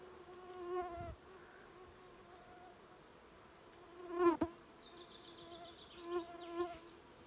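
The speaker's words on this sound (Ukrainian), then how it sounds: "Великий гарний рій, зразу видно по кількості бджіл, скільки він на дереві сидить" A large honeybee swarm flies around a swarm trap outdoors, giving a faint, continuous multi-toned buzz with individual bees passing close and louder at a few moments.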